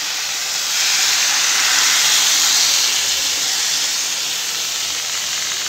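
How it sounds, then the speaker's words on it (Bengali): Water poured into a hot pan of fish curry with a fish head and eggplant, giving a loud, steady steam hiss that swells and then settles into a constant sizzle. "মাছের মাথাটা দিয়ে দেবো, দিয়ে জল দিয়ে দেবো।"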